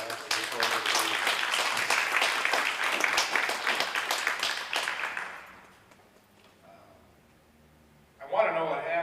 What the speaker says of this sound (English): join me in giving Matthew a round of applause